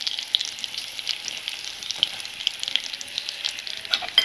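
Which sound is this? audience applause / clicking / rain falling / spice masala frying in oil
spice masala frying in oil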